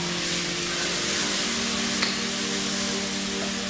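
Canned creamy sweet corn hitting a hot pan gives off a steady, close sizzle with faint stirring, even and unbroken throughout.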